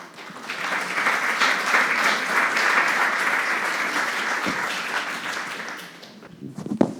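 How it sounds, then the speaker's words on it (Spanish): Conference audience applause welcoming a panelist, steady and moderately loud for about six seconds, then tapering off into a few stray sounds. "Recibámosle con un aplauso, por favor."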